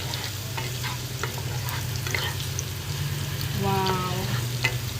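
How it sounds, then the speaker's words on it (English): Masala paste sizzles and fries steadily in a pan for Kenyan-style masala chips, with a constant frying hiss, light stirring scrapes and a brief bubbling burst near the end, with no voices. "So I'm going to saute this just for 10 to 15 more seconds."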